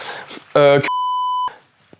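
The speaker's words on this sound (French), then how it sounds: "Tous les noms seront bipés" A steady high-pitched censor bleep cuts in sharply for under a second, right after a brief burst of voice, then ends abruptly.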